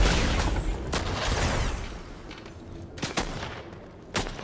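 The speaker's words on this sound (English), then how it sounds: "And we're getting shot at." Gunfire in the Fortnite battle royale game, several sharp shots scattered across the stretch, with a broad wash of game noise and action sounds between them and no talk.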